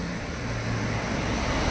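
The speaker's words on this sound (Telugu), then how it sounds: "బైక్ మీద వెళ్తున్నాం" A motorbike or scooter ridden along a road in Bali gives a constant, loud rush of wind and road noise with a low engine drone, without talking.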